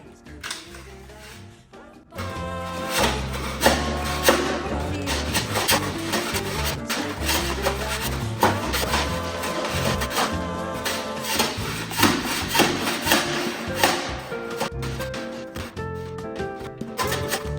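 A metal scraper repeatedly slams and scrapes against a concrete floor while prying up floor tile, giving loud irregular bangs and grinding rasps close by for a sustained stretch.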